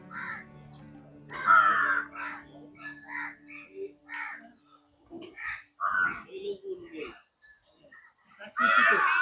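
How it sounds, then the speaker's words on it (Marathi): Crows cawing outdoors near a hill fort, a series of loud harsh calls in uneven bursts, some close and some farther off, with a person talking in between. "एकदम निसर्ग कावळ्याचा वगैरे आवाज तुम्हाला येत असेल"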